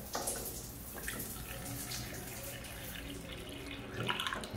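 Water runs steadily from a tap after a leaking PVC pipe has been patched, a continuous close splashing flow at moderate level with no talk over it.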